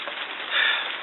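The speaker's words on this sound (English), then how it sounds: "I'm not going to ride in the rain." Steady hiss of rain falling on a dirt road, a soft even wash that swells slightly midway, with no voices.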